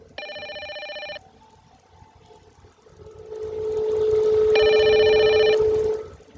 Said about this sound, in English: Phone. Better get that. Might be the phone.